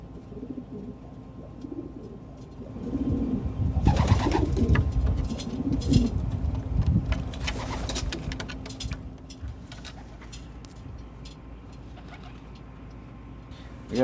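Rock pigeons cooing close by, soft throaty rolling coos repeated in bursts with wing rustles and faint patter, growing busier in the middle before thinning out toward the end.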